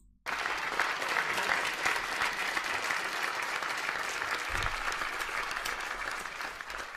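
Applause from a crowd bursts in suddenly after a brief quiet moment and holds as steady, even clapping, moderately distant and unbroken to the end.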